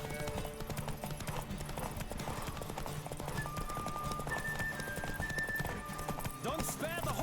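Rapid clip-clop of horse hooves galloping at a steady rhythm in The Witcher 3, with a faint whinny and game music playing underneath.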